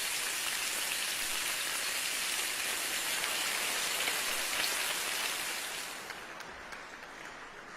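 Bacon sizzling in a pan, used as a stand-in for rain, gives a dense, steady hiss of crackles that tapers slightly toward the end, with no voices.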